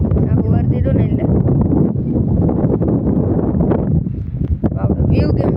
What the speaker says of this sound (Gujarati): પવન તો હજી અહીંથી ચાલુ જ છે આપણે.